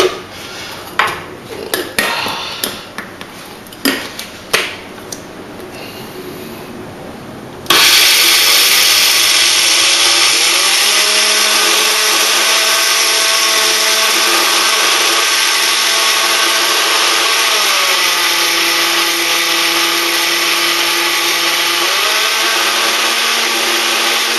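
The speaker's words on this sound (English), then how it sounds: "right now we're going to add the rice into the blender" Dishes clatter, then a blender roars on, loud and steady, pureeing overnight-soaked rice with water into batter for Vietnamese banh xeo. Its motor whine shifts pitch several times as it runs on without a break.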